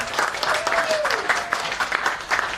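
Audience applause at a product launch event, brisk, close clapping from a modest crowd with a brief whistle-like tone partway through, continuing steadily.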